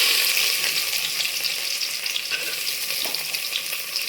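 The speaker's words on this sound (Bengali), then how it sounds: "পেঁয়াজটা আমি একটু ভালো করে ভেজে নেবো" Chopped onion frying in oil in a pan for a white pulao, giving a dense, steady sizzle that stays close and even throughout, with no voices.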